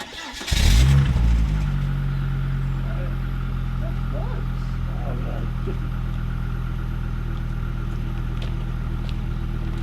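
A Volvo V70 with a Jetex exhaust cold-starts with a brief starter whirr and a sharp catch, then holds a steady, deep idle close by, while a voice speaks faintly over the idle.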